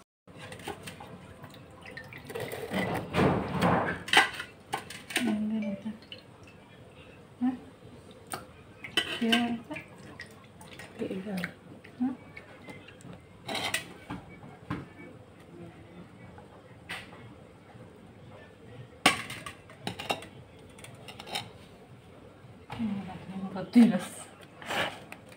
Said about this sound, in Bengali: আমাদের গ্রামে ভালো করে এভাবে মাছগুলো ধুয়ে নেয়